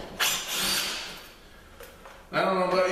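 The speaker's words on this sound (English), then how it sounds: "I'm using an impact drill, and I love this drill" A cordless impact drill whirs in short bursts while driving screws into window hardware, loud and close, with brief pauses between runs and a final sustained burst.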